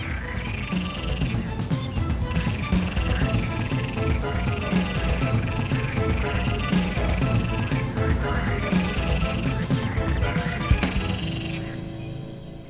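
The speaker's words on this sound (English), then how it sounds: "Male green frogs battle not only with loud croaks," Male green frogs croak at a pond beside the Drava River in Croatia, a dense chorus of loud, repeated rhythmic croaks and rattling calls close by, with several frogs overlapping throughout.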